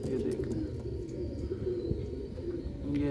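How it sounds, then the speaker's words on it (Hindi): Low, soft cooing from a pair of Faisalabadi Neeldumba pigeons, a male and a Kasuri female, close by. The calls sit over a muffled background rumble. "फैसलाबादी नीलदुम्बा कबूतर, और साथ में उसके जौंसरी कसूरी मादी।"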